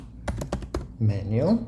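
Quick burst of computer keyboard typing while writing code, four or five crisp key clicks in a fast run, followed by someone speaking.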